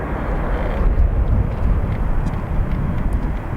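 A WestJet airliner departs Dublin Airport, its jet engines producing a loud, close, continuous roar that stays strong and steady throughout.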